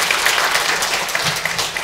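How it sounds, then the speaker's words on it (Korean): Applause from the audience at a youth debate forum, a dense burst of many hands clapping steadily and fairly loud with no voices over it. "일단 박수 좀 보내드리겠습니다."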